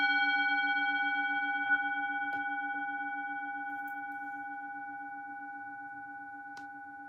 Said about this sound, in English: I'm going to sound my singing bowl once.